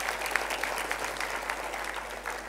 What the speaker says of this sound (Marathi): त्यांच्यासाठी आणि प्रुडंट मीडियासाठी जोराने टाळ्या वाजवा.